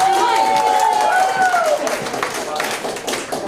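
A comedy roast battle audience in Milwaukee claps and cheers, the applause spreading through the room while a voice talks over it.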